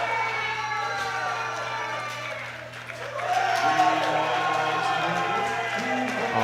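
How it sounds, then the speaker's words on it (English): A large crowd at the junior 120 kg classic world powerlifting championships erupts into sustained cheering and shouting, swelling louder midway, with a steady tonal hum running underneath and voices mixed into the roar. "The crowd goes wild."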